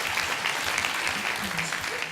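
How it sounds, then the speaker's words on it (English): An audience at a conference luncheon session in Barcelona breaks into steady, dense applause, loud and continuous throughout. "This deserves a round of applause."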